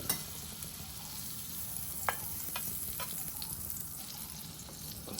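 Butter sizzling and frying on a hot dosa pan while making honey dosa, a steady crackling hiss throughout with a few faint sharp ticks and utensil touches, no talking.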